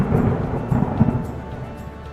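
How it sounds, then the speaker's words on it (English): A thunderstorm rolls in with a deep, rumbling peal of thunder over a dense wash of steady rain, loud and sustained before slowly easing off. "The weather is stormy."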